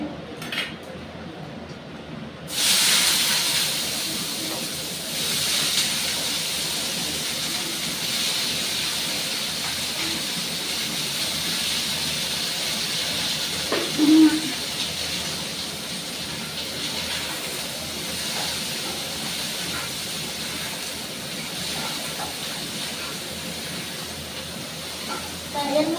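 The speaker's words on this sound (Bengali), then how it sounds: "তা এই সবজিটা আমি বেশ একটু সুন্দর করে লাল করে ভেজে নেব।" Sliced eggplant, onion and slit green chillies frying in a pan, a steady broad hiss of oil that starts abruptly and carries on evenly throughout, with a faint clink partway through.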